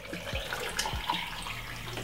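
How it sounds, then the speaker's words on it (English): About a glass of water poured into a Ninja blender for lime beetroot juice, a short splashing trickle close by with soft gurgles. "I'm gonna put some, roughly about a glass of water"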